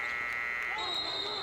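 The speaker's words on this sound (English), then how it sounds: "the shot clock buzzer did definitely beat Uruguay on that occasion" A basketball shot clock buzzer sounds during a men's Argentina versus Uruguay game, a loud sustained electronic tone in the arena, with crowd noise and commentary around it.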